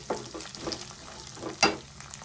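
Ingredients frying in a pan for atukula poha, a soaked flattened-rice dish: steady close crackling sizzle, broken by stirring scrapes and one sharp clatter partway through.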